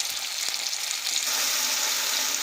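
Ground mustard greens paste goes into a pan of fried garlic and hisses loudly. After a brief clatter, the sound settles into a steady, bright sizzle with no talking.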